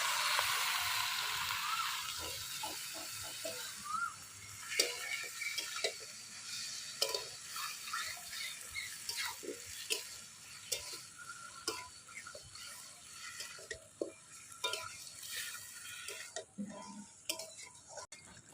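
Chicken pieces, including large leg pieces, frying and being stirred in spiced oil for Bengali-style chicken biryani, giving a steady soft sizzle with irregular scraping and ticking stirs close by.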